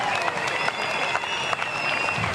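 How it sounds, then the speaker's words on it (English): Spectators cheer and applaud a surfer from the shore at the Gold Coast Pro surf contest finals, a steady crowd roar with scattered clapping over ocean noise, sustained throughout. "Boys cheering on Sammy Pupo there."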